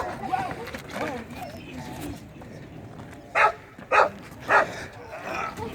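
A hyper young puppy being transported from an animal welfare shelter barks three quick times near the end, after a stretch of people talking and background chatter.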